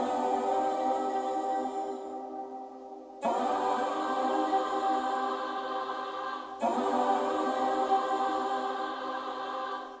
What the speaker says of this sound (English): I got the Cymatics Holy Spirit vocal loop